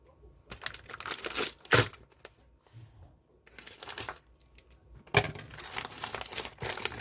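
Thai coins being handled from a bag, metal clinking and jingling in scattered clusters with a few louder rattling bursts, close and fairly quiet with pauses between handfuls.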